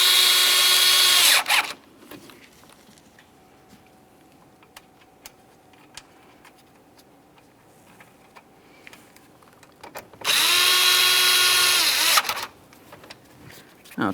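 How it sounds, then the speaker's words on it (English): A cordless power drill drives a screw into the fog light bezel on a 2017-2024 GMC Acadia. It makes two loud, close whirring bursts of about two seconds each, separated by a long quiet stretch with small handling clicks. "Start in the screw, snug it up"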